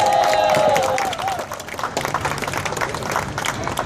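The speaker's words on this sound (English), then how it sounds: "Get another round of applause for Don Davies." Audience applause after a speech at an Ottawa rally against the TPP, a fading crowd clapping that starts loud with a voice over it, then settles into scattered ongoing claps and murmuring.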